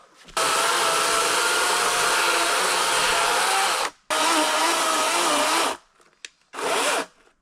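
A loud chainsaw roars steadily while milling logs, cuts out briefly, restarts, then stops and sputters with a short final burst.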